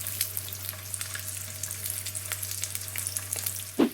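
An egg sizzles steadily in a pan while a bacon, tomato and cheese toasted sandwich is being made, a constant close crackle with a low hum beneath and a brief knock at the end.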